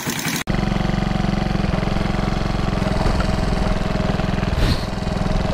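A Raider J115 Fi motorcycle, fitted with a 32mm throttle body, idles hot in a steady, close, continuous putter after a brief opening cut, with a faint blip of revs near the end.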